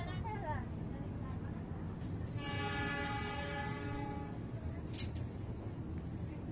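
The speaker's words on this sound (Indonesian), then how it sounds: "Langsir ya, lokomotif C6 langsir." A C6 locomotive shunting from one track to another at Garut station in Indonesia, with a long harmonic horn blast in the middle over a low rumble of rail machinery, moderately distant and fairly quiet.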